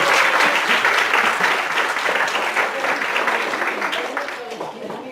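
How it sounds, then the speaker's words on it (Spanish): An audience at an academic philosophy panel discussion bursts into steady applause, loud at first and gradually thinning out over a few seconds. "Démosle un aplauso, por favor,"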